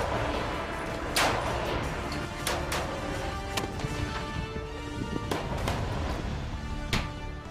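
Scattered sharp cracks of gunfire in Syria ring out at irregular intervals over a steady rumbling background, some shots closer and louder than others, with no voices.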